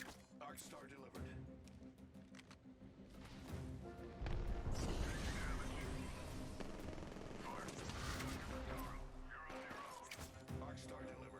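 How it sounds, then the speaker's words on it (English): Grenade blasts and heavy gunfire rumble through a three-way firefight in Apex Legends, with loud booming bursts midway and a player talking over the chaotic combat. "I threw like 100 grenades and didn't do any damage"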